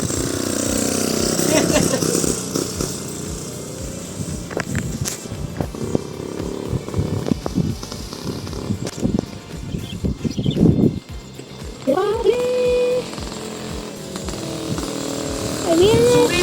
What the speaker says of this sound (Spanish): Primero las echas a andar y luego sueltas el motor y empieza a arrancarse.